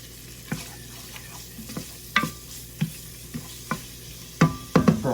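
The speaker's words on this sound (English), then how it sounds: "Give our bacon a little stir." Bacon sizzles softly in a pan under a run of sharp scraping and clacking stirs, spaced irregularly and ending in a quick cluster. The sound is close, with no talking.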